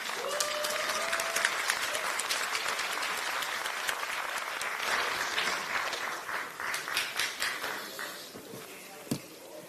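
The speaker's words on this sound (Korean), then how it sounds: "박범계 위원장님께 큰 박수 부탁드립니다." Applause at a Democratic Party political event, dense and sustained clapping from a large crowd that thins into scattered separate claps near the end, with one sharp knock close by.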